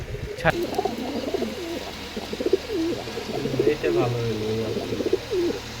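Two male tumbler pigeons coo in low, rolling bursts over about six seconds, fairly close, with soft background noise and occasional faint chirps.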